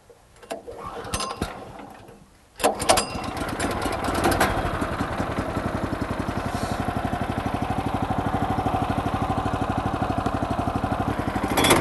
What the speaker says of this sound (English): then we're going to start the engine